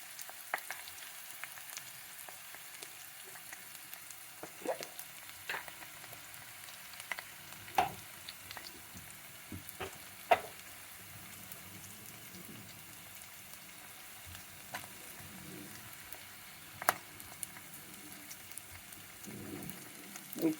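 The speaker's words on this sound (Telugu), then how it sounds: "ఉల్లిపాయలు వేగనివ్వాలి అండి బాగా" Onions fry in a pan for capsicum paneer curry, a soft, faint sizzle with scattered light clicks and stirring sounds, close by and alone with no voices.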